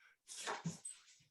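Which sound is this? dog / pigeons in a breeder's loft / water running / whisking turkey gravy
dog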